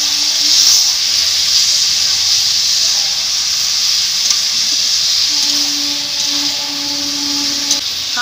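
Chopped bottle gourd and potato hit hot spiced oil, giving a loud, continuous hiss and sizzle throughout, with faint tonal hums and clinks underneath.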